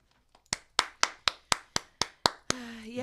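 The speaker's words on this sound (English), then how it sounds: "I'm going to applaud this young lady." A single person claps slowly and steadily, about eight crisp, loud claps at an even rhythm, followed by a voice starting to speak.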